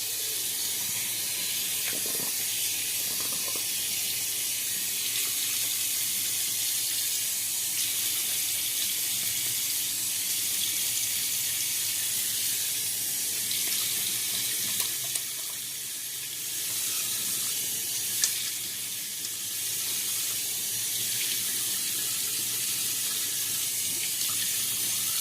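Tap water runs steadily into a bathroom sink as a face is wetted before shaving, a continuous close hiss and splash that lasts throughout with only slight changes in flow.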